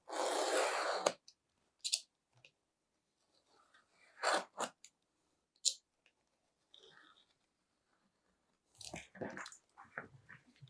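A blade cutting a piece of leather along a ruler, a few short, close scraping and slicing strokes separated by silence, one longer rasp at the start.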